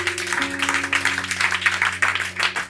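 A church congregation applauds during a sermon, steady crowded clapping with rhythmic surges over a sustained organ or keyboard tone, no voices on top.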